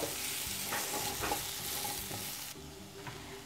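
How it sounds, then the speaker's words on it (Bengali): Red and green capsicum sautéing in a pan, a steady soft sizzle with scraping stirs of a spatula, the frying hiss dropping away near the end. "রেড ক্যাপসিকামের সাথে আমি গ্রিন ক্যাপসিকাম নিয়েছি, সেটাও দিয়ে দিচ্ছি। একসাথে এটা একটু সটে করে নিতে হবে।"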